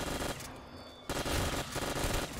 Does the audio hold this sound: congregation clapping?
no